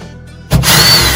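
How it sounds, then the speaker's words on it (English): A power drill with a Phillips bit whirs up abruptly after a moment of near quiet, removing screws from a Bradley smoker, running steadily at close range with a faint rubbing grind underneath. "you might need to require your hand drill with the Phillips screwdriver"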